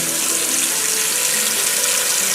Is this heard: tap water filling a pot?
yes